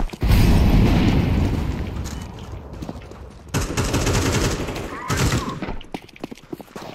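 Rapid gunfire in Counter-Strike 2 on the Dust II map, competitive match: loud, close bursts of automatic fire in several volleys, with short pauses between them and a few separate shots near the end.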